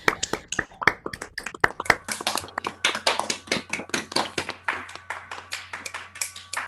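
Scattered hand claps from a few people in an online seminar audience, uneven and overlapping, moderately close with a steady low hum beneath.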